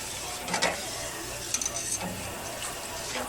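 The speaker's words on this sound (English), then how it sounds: "I'll stir it for probably a minute" A spoon stirs rehydrated freeze-dried ingredient into a homemade pepper jack cheese mixture, giving soft, quiet scraping and light clinks in a few brief bursts against a low background hum.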